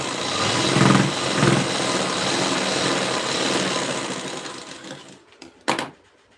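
Sewing machine stitching blouse fabric, a continuous fast mechanical whir that surges slightly in pulses, then slows and stops, followed by a few clicks of handling near the end.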